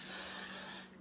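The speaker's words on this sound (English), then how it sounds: "So I'm just gonna spray a little bit." Hairspray misted from a can during a quick makeup routine, a single close, steady hiss that stops abruptly near the end.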